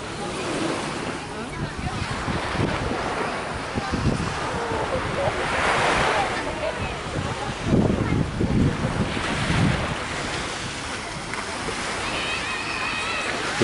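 Waves wash onto a sandy beach at Military Beach in Thailand, a continuous surging roar of surf mixed with heavy wind buffeting the microphone.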